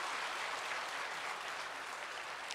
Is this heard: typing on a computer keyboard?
no